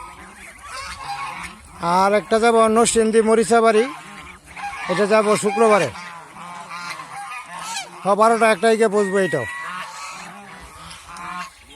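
Loud, repeated honking from geese comes in bursts, alternating with someone talking close by.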